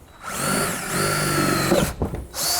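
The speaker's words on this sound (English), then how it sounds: "Might be better just to do a 2-inch hole and start in the middle so that you're nice and straight. I get a hole saw." A power drill with a hole saw bores a 2-inch hole, whining loud and close in a sustained run with a slight pitch dip, then briefly stopping and restarting near the end.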